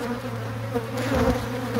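Honey bees hum steadily at an opened hive during a super and drone-frame check, a close, continuous drone with no voices.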